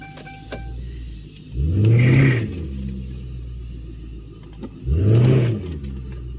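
A Lincoln Town Car engine fitted with a modified factory throttle body spacer revs up twice, each blip a loud rising-and-falling surge over a steady idle, with no talking.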